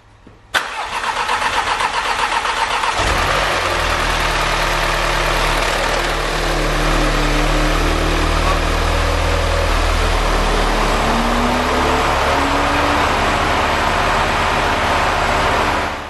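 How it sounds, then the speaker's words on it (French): An Audi TT cranks and fires up for the first time after an engine swap, then settles into a steady, loud idle with a low hum that persists alone for the rest of the stretch. "C'est parti pour un démarrage."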